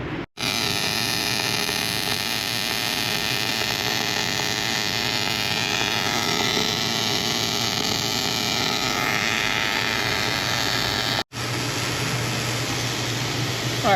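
Continuous wire-feed welding on the broken arm of a Case CX300D excavator, a steady loud hiss and crackle with low hum running almost unbroken, cut off briefly near the start and again toward the end.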